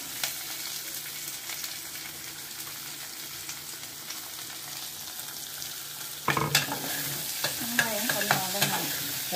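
Green chillies and curry leaves fry in hot oil for mung dal tadka, a steady close sizzle, then onions drop into the pan and the frying swells louder with stirring scrapes.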